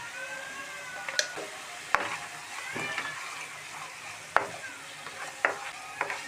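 Ginger garlic paste with turmeric fries in oil in a pan for a gongura beef curry. A steady soft sizzle runs throughout, with a spatula scraping and clinking against the pan at intervals.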